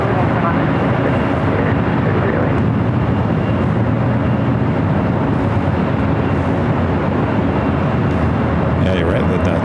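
An airplane takes off from LAX, a steady loud broadband roar holding for nearly ten seconds with a voice talking over it.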